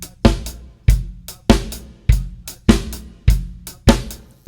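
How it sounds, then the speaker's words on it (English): A full drum kit plays a shuffle groove with the snare drum cracking on beats 2 and 4 over swung hi-hat and kick, loud and close, in an even lilting rhythm. "Here's the full groove with the snare drum on 2 and 4."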